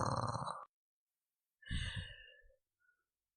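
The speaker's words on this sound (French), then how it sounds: "Je renfle." Two breathy snoring sounds from a person, heard close in quiet: a first exhale, then after a pause a rougher, fluttering snore.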